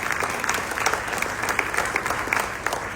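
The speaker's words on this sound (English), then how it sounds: "Please give him another warm round of applause, ladies and gentlemen." An audience at a Tamil Foundation Malaysia evening event applauds steadily, a full, continuous burst of clapping heard close with no speech.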